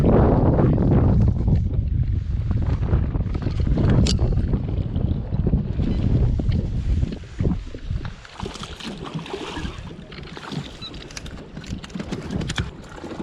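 Gusty wind buffets a fishing boat out on Lake St. Clair, a steady loud rush of air and microphone rumble with lapping water, easing somewhat after the first few seconds.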